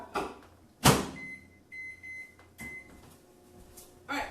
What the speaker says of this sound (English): so microwave for 2 minutes